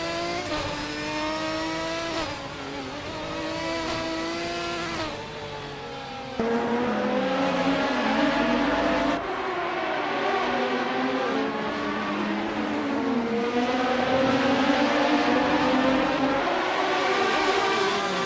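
Race cars in a racing video game scream past one another, engines revving and shifting in long rising whines, several cars overlapping and staying loud and close the whole time.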